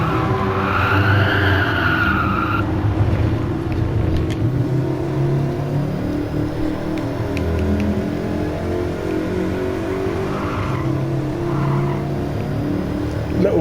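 A race car engine in Gran Turismo Sport drones and revs continuously while tires skid and squeal, the loud game audio running throughout with shifting engine pitch.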